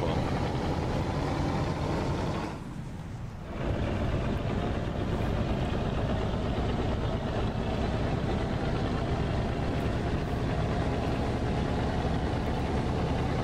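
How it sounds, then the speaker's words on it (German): A simulated city bus engine in OMSI 2 drones continuously from an outside view, loud and steady, with a brief dip in the rumble early on before it returns to a constant hum. "Aber ihr hört auch den Motor."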